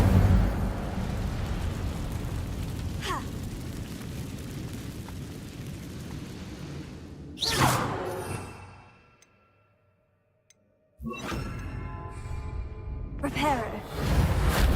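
An Incendio fire spell cast in Hogwarts Legacy: sharp whooshing bursts of flame with roaring swells over game ambience, one burst mid-clip and two more near the end after a brief silence.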